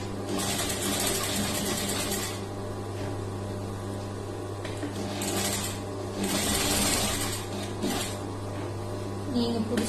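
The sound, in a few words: sewing machine stitching blouse lining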